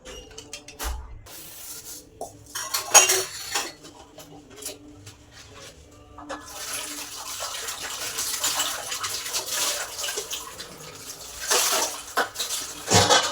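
Dishes being washed and tidied away in a home kitchen after cooking chicken dum biryani: running tap water, scrubbing and the occasional clatter of pots, continuous and growing louder and busier in the second half.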